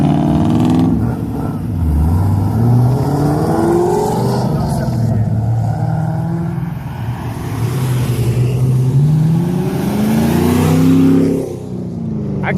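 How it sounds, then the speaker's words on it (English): A turbocharged car revs at a summer car meet, its engine swelling and falling in pitch through several rises, loud and nearby, with crowd voices mixed in. "Oh, you can hear that turbo."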